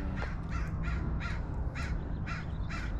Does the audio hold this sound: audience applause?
no